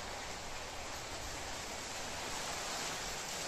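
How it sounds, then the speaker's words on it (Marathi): Unseasonal rain and strong wind outside at night in Nashik during a thunderstorm, a constant broad roaring wash of rain and gusts throughout, fairly loud and unbroken, with no talking. "बाहेरवर तो पाऊस पडतोय, तुम्हाला आवाज येत असेल."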